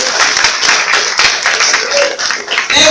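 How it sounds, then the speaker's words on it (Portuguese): Church congregation clapping loudly in praise during a worship service, a dense, energetic burst of rapid claps filling the room, close and strong for the whole stretch. "Dá uma linda salva de palmas para o Senhor bem forte"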